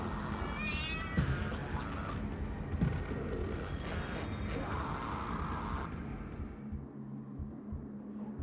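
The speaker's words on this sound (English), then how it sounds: "We need that cat to chill out, though." Cat meowing in the video game Five Nights at Freddy's: Into the Pit, several drawn-out yowling meows early on over background rumble and creaks, fading to quieter ambience.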